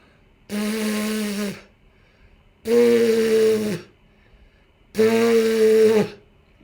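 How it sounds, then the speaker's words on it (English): Lips buzz without a mouthpiece in three separate bursts of about a second each, a raspy, nasal drone separated by short silences. "You should notice that your lips automatically start vibrating."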